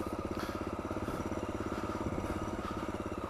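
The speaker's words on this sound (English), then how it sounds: "I can already charge up and down them on the motorbike" Motorbike engine chugging steadily in an even, pulsing rhythm at moderate distance on a farm field, with no talking.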